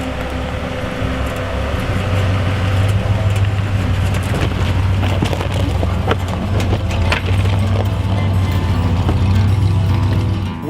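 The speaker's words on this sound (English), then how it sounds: "today we've been driving a 1953 CJ3B" A 1953 Willys Jeep CJ3B towing a 1947 Kenskill Teardrop Trailer Model 10 drives past close and loud, with a steady engine drone and rattling, clattering mechanical knocks throughout and no talking.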